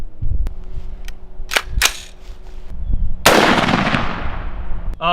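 .223 rifle rounds, 55-grain bullets, fired at a plexiglass target outdoors: several sharp, loud cracks spaced apart, the last and strongest followed by a long ringing decay.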